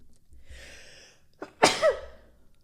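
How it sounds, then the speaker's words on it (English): A single loud sneeze bursts out after a quick intake of breath, close to the microphone against a quiet room. "Excuse me, I had to sneeze."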